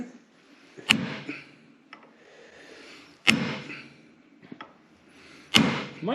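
Three sharp metallic hammer strikes on a rusted cotter pin of a 1939 Caterpillar D4 tractor, spaced a couple of seconds apart, each ringing briefly, with faint lighter taps in between.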